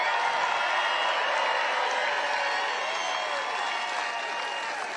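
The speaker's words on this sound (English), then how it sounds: "So let's have a big round of applause for the men and women of the United States Armed Forces." A rally crowd applauds for about five seconds, dense, steady clapping that fills the space and fades slightly toward the end, with no voice over it.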